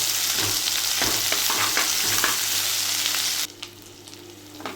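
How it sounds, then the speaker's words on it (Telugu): Ginger garlic paste fries in a pan with a loud, dense sizzle and bursts of stirring scrapes, then the hiss suddenly drops to a quieter simmer toward the end, close up and without talk. "వన్ స్పూన్ అల్లం వెల్లుల్లి పేస్ట్ వేసుకోండి ఇది పచ్చి వాసన పోయే వరకు ఫ్రై చేసుకోండి"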